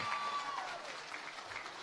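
Applause from a political rally audience at a Perikatan Nasional PRU15 campaign event, a short dense burst of clapping heard alone at moderate distance.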